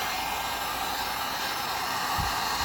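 Steady loud whoosh of a heat gun blowing across resin on mermaid-tail ocean-style coasters, a continuous airy roar with no break and no talking.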